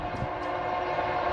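A train going by in an area with loads of hardwood logs, heard as a steady close rumble with a faint distant horn at the start.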